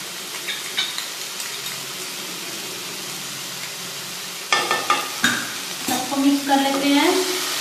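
Spring roll filling being stirred in a pan with tomato sauce and chilli sauce, the spoon scraping in quick irregular strokes over a steady sizzle, louder and busier toward the end.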